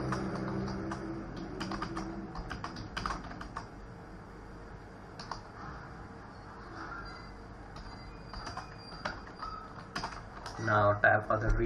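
Code is typed on a computer keyboard in bursts of quick, light key clicks, fairly close, with pauses between runs and a voice speaking near the end.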